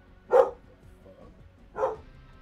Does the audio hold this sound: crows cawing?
no